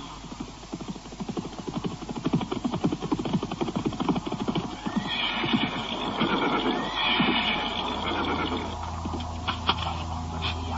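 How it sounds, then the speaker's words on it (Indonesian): Two horses arrive with rapid hoof-beat thuds, then neighing and whinnying rises over a rumbling background, loud and close. "tiba-tiba 2 buah kuda datang dan berhenti di tempat itu"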